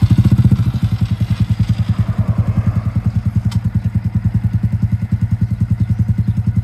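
A motorcycle engine runs at idle just after starting, loud and close, with a rapid, even chugging pulse that holds steady throughout.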